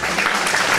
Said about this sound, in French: les applaudir très fort